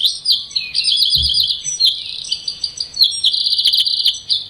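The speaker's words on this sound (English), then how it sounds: "This is a wren." A wren sings loud, rapid trills and high chirps in quick bursts, close by, with a brief low thump partway through.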